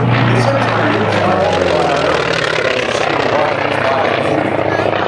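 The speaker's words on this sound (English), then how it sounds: "And here comes, I think, first of our T-28s from the right." A T-28 propeller trainer at an air show roars past in a loud, steady, close drone of engine and propeller that holds for the whole stretch.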